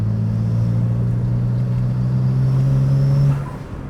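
A tuned 600 hp BMW 335 accelerates with a steady, loud drone from its engine that holds for about three seconds, then drops away abruptly near the end.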